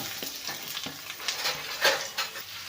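Onions frying in a pan for kadai paneer, a steady close sizzle with repeated stirring and occasional spatula scrapes against the metal.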